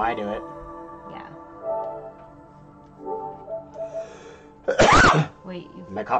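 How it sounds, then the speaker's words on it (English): A sharp cough bursts right into the microphone, loud and close, standing out near the end of a stretch of quiet conversation during a Power Rangers Mega Battle video game session. "I coughed right into the microphone"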